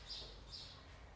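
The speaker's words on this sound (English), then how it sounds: "Listen to the birds." Birds outdoors give two brief, faint chirps over a steady low background hum.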